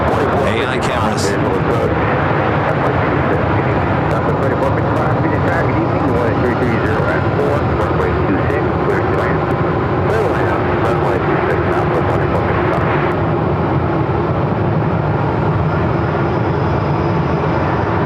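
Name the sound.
American Airlines Airbus A320 jet at Phoenix airport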